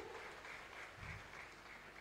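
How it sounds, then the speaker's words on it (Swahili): Audience applause fills a church gathering as a Sunday School gift is presented, a steady, dense clapping from many hands that holds for about two seconds. "Tumpigie makofi."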